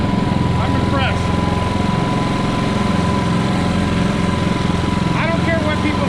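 A Ryobi 3400W inverter generator runs in a low, steady hum with a constant engine drone, fairly quiet and unchanging throughout, with brief faint squeaky sounds in the background.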